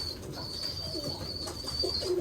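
Racing pigeons coo softly in short, low bursts, with a steady thin high-pitched whine running above them throughout.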